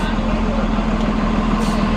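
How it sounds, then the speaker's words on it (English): A city bus passing on College Street in Toronto: a loud, steady, close engine rumble and road roar that fills the whole stretch without letting up. "I wish this bus just passed."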